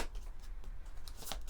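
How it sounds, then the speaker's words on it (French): Oracle cards are shuffled and drawn by hand, giving a brief, soft papery riffle with a few crisp flicks near the end, close and fairly quiet. "On va prendre une carte de l'oracle The Venice Witch"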